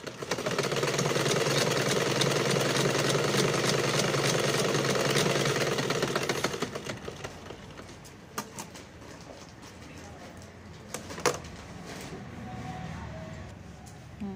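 A sewing machine stitches a bias binding strip in a loud, steady buzz for several seconds, then stops, leaving clicks, handling noises and faint background sounds.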